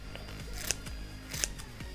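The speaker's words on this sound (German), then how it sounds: "Ich mache das meist mit der Schere." Kitchen scissors snip the ends of spring onions near an outdoor barbecue, with two crisp cuts standing out over steady background noise.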